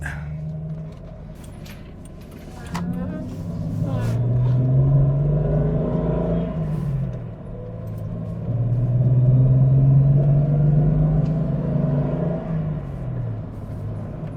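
A Jeep XJ with a freshly replaced clutch system drives off and accelerates, its engine rumbling low inside the cabin, swelling and easing between gear changes, with a brief jingle of keys.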